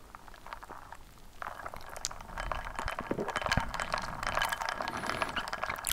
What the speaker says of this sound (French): le verser dans une tasse pleine de glace